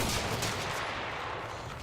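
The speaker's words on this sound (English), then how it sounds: "Looks like he's using the Vitelli infantry scout rifle." Battlefield 1 esports match with a Vitelli infantry scout rifle firing amid battle: a dense, steady wash of distant gunfire and rumble runs throughout at moderate level, with no distinct individual shots standing out.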